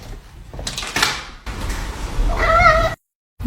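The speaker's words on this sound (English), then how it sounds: "You silly kitty." A cat meows once in a bright, wavering call near the end, amid household bustle and thumps, followed by a brief silence.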